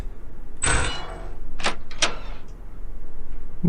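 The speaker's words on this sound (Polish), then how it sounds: "O, drzwi się otworzyły" In the game Dayshift at Freddy's, a door slides open with a quick whooshing scrape, followed by two short mechanical clunks, close and clear against a quiet low hum.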